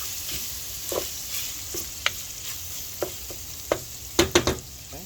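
Olive oil sizzles steadily in a pan for sausage gravy, a close frying hiss with sharp crackles and pops that come more often toward the end.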